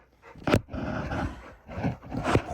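A dog growls and barks in rough, throaty bursts, close by, with a sharp bark at the start and rumbling in between.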